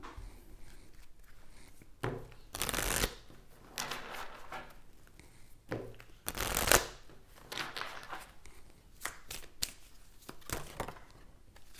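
Tarot cards are shuffled and handled close up in quiet, papery riffles and slaps, several louder bursts scattered among softer rustling, with no talking over them.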